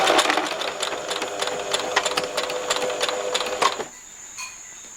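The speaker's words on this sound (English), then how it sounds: "I am actually back stitching as I sew each seam" A sewing machine backstitches a strip-pieced seam on a fitted crib cover, a loud close rapid rattling whir with a ticking rhythm that cuts off just before four seconds, leaving near silence.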